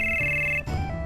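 An old-fashioned telephone rings in the video game Final Fantasy VII, a short electronic trill that holds steady and then cuts off abruptly, followed by a fainter tone.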